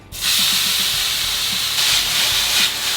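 Tomatoes sizzle in olive oil in a medium pan over heat, a steady close hiss of frying with soft crackles and pops running throughout.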